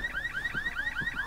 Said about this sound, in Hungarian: Mi van, bekapcsolt a riasztó?